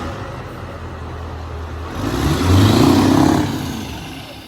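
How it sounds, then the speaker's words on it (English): A Scania truck with an upgraded turbo and injectors revs up from a low idle, the engine rising to a loud close roar that holds briefly and then falls away. "Rev it."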